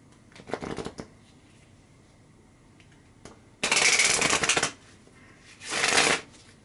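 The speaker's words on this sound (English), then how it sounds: "now I'm going to shuffle the Lenormand cards" Lenormand cards are shuffled in three separate bursts of quick riffling, close and crisp, with quiet gaps between them.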